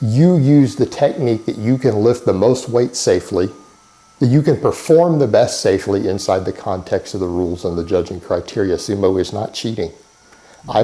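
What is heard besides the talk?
No everyday noises stand out.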